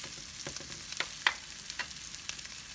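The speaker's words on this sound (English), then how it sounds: "And the Spam is browning up" Spam browns in a pan beside cooked ramen tossed in olive oil, giving a quiet, steady frying hiss broken by a few small crackles and pops.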